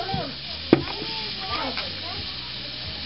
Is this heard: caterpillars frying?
yes